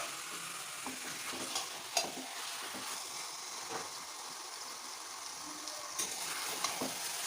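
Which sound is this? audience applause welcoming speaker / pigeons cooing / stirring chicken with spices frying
stirring chicken with spices frying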